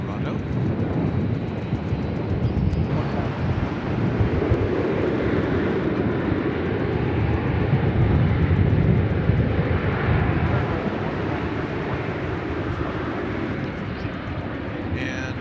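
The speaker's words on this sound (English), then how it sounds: "That was United Flight 1182, an Airbus A320 going to Denver, Colorado." United Airbus A320 jet at DFW airport, a broad, steady engine roar and rumble that swells slightly in the middle and carries on throughout without pause.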